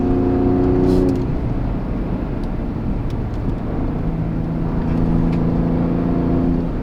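A Gen 3 Ford Raptor with the 3.5L engine and AWE Switch Path exhaust revs loudly close by, its deep engine note rising and falling through steady throttle blips with harmonic drone, no talk.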